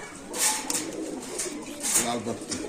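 Pigeons coo softly in a low, throaty murmur at a pigeon market, with brief bright chirps and rustling mixed in.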